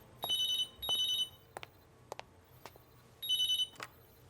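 Telephone ringing in the video game Vampire: The Masquerade – Swansong: three loud double-burst electronic rings, evenly spaced, with a few faint clicks between them and no voices.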